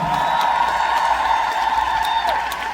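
Audience applause fills a concert hall at a concert: a steady, dense wash of many hands clapping close by, with a faint sustained tone underneath.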